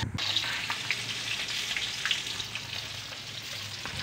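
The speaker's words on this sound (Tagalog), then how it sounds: "Lagyan na natin ng mantika ang kawali." Cooking oil heats in a frying pan, giving a constant soft sizzle that sits close and holds steady, with a few faint clinks mixed in.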